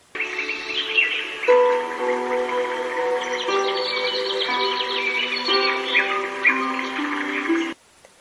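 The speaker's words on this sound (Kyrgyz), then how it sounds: "бар ыкыласы менен бөдөнүчө сайрап кирди" Quail song rings out in a bright, steady run of chirping and trilling calls lasting about seven seconds, fairly loud and close, then cutting off abruptly, with no voices.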